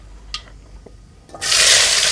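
A few faint clicks, then a sudden loud, steady hiss of chopped onions sizzling in hot oil with mustard seeds that continues to the end.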